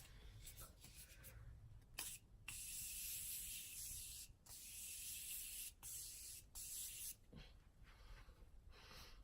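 MAC Fix Plus makeup setting spray sprays in several close, hissing bursts of fine mist, each a second or more long with short gaps between them.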